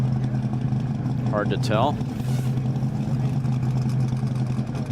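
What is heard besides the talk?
Speed Demon land speed car idling on the salt flats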